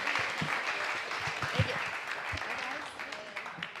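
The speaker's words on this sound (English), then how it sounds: "Let's give a giant round of applause to Jenny Wemert" A seated audience applauds a real estate panelist being introduced at a masterclass on repeat business and referrals. The steady, moderately loud clapping is mixed with some voices and low thumps.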